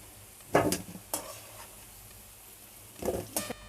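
Chicken pieces fry in a pan for a chicken kosha, heard as faint sizzling broken by a few short bursts of stirring scrapes and spatter against the quiet.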